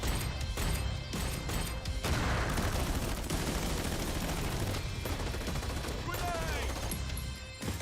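Dense, loud gunfire from a VR shooter game trailer, sustained bursts and rapid shots layered with crashes, with a voice talking over parts of it.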